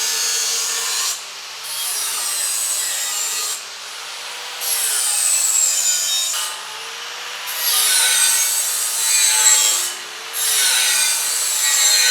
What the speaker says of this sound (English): So just go ahead and bevel this edge out